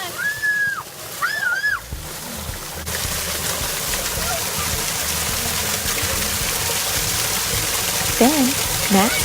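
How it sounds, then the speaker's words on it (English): Children playing in an indoor museum waterfall, a steady broad rush and splash of falling water filling the space, with high children's voices calling out near the start and again near the end. "Then, Max got to play in the waterfall."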